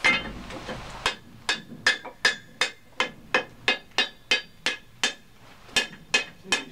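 Hot steel struck on an anvil while forging a froe, about fifteen sharp ringing hammer blows in a steady, even rhythm, loud and close, with no talk.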